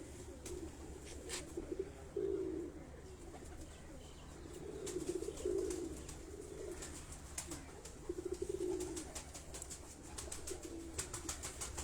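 A small female pigeon of a bred flying lineage coos softly in repeated low, rolling phrases, fairly faint against a quiet background with occasional light rustles.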